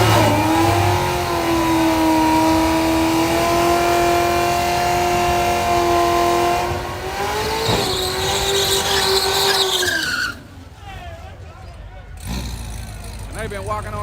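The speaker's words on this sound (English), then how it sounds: "We got Lawrence with the ZL1 versus Super." A Chevrolet Camaro ZL1 at a nighttime drag strip revs hard and accelerates away, a loud sustained engine note that climbs and then fades, with crowd noise and voices around it.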